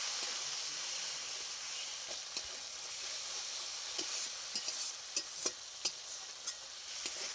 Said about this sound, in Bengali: খুব ভালো করে মশলা কষে নিয়েছি দেখুন মশলা থেকে খুব ভালো তেল ছেড়ে গেছে